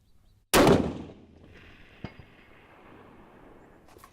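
A single loud rifle shot from an ARC Mausingfield chambered in 6mm Creedmoor cracks sharply at an outdoor range, followed by a long decaying echo, with a faint distant report returning about a second and a half later.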